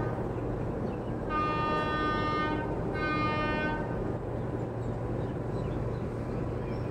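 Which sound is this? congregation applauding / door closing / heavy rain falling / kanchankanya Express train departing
kanchankanya Express train departing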